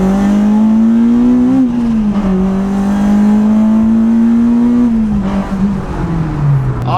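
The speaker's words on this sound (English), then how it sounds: "We'll get a bit of a second gear pull here and see how this car's pulling." A car engine pulling hard through second gear, a loud, close, rising drone that climbs steadily, dips briefly at a shift and then falls away near the end, heard alone without talk.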